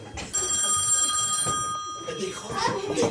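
An old-style telephone bell rings out steadily in a stage farce, a bright metallic trill lasting over a second, with people talking around it.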